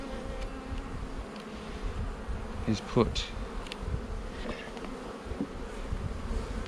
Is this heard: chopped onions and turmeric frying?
no